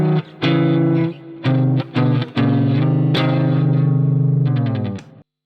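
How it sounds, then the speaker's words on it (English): Electric guitar with distortion and effects playing minor thirds across the neck: a series of sustained two-note chords, several shifting positions with brief gaps, loud and close, ending in quick repeated picks. "then you can play minor 3rds across the whole neck if you want to"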